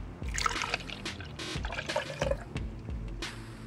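Almond milk pours from a carton into a blender jar for a banana blueberry smoothie: a close, trickling, gurgling stream with a few glugs and brief pauses, with no talking.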